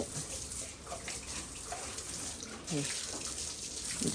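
Water is poured and splashed over fattening pigs in their pen, a soft continuous wash of running, spattering water at moderate distance. Occasional faint animal grunts or voices surface underneath.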